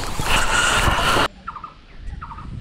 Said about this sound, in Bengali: কি একটা পাখি ডাকতেছে